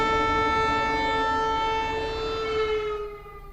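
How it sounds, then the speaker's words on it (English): Civil defense air raid sirens wail across Lublin, Poland in the early morning, a steady sustained tone with strong harmonics that holds loud for about three seconds and then begins to fade, with no voices. "The sirens could be heard in the early morning hours in Lublin, southeast of Warsaw."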